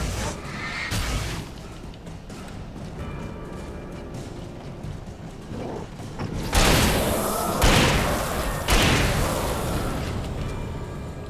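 A shotgun fires in Alan Wake Remastered: three heavy, booming blasts about a second apart, each with a long ringing tail, after a quieter stretch of dull thuds and ambience.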